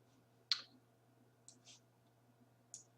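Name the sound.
mouse click on OK button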